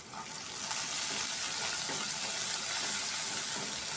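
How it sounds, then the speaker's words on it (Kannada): Four green chillies fry in a pan for a drumstick-leaf stir-fry, giving a steady, fairly quiet hiss of sizzling oil with faint stirring underneath and no speech. "ಇದನ್ನು ಹಾಕಿ ಚೆನ್ನಾಗಿ ಫ್ರೈ ಮಾಡ್ಕೊಳ್ಳೋಣ."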